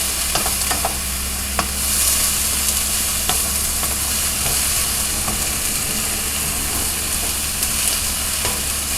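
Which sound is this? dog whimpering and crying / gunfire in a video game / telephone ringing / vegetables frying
vegetables frying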